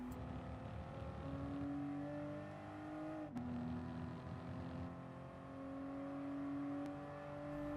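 A GR Supra GT Cup race car in Gran Turismo Sport accelerating at full throttle out of a turn at Circuit de la Sarthe, its engine whine climbing steadily with a brief gear-shift dip midway, loud and continuous with no talk.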